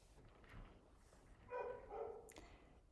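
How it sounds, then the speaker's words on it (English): A dog barks indoors in the background, a short cluster of sharp barks at moderate distance over a quiet room tone. "Sorry if you guys can hear that dog."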